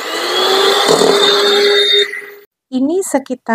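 An electric mixer whirs steadily, beating egg yolks and sugar for a pandan ogura cake, a loud close drone that cuts off before a person speaks.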